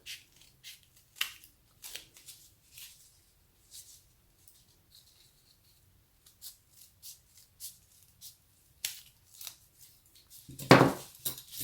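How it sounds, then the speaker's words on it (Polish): Scissors snip narrow strips from white and red tissue paper, a run of sparse, quiet clicks and crisp cuts with pauses between, ending in a brief louder rustle of paper. "Teraz z paseczków bibuły białej i czerwonej wycinam wąskie paski, takie mniej więcej około centymetra."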